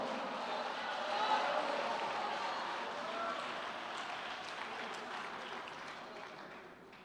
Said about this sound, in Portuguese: Aplauda Ele, dê glória a Ele, diga obrigado, Senhor.